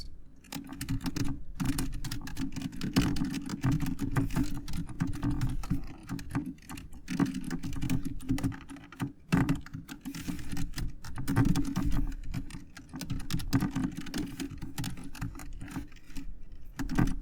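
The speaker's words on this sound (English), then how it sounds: "And right below here, you want to type in" Steady computer keyboard typing as code is entered in Visual Studio, a quiet, close run of irregular key clicks that goes on alone with no talk.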